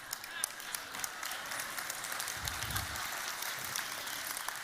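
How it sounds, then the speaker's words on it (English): Scattered, fairly quiet applause from a church congregation during a sermon, dense but soft clapping spread across the room at a distance, with a brief low murmur partway through. "Mercy applause, I'll take it how I can get it"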